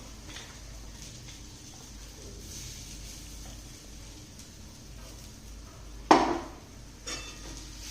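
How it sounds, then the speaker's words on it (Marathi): Ground green pea paste being sautéed in a pan for matar kachori, with low steady stirring and scraping throughout and a sharp clatter of a utensil against the pan near the end. "ते त्यामध्ये एकसारखी परतून घ्यायची"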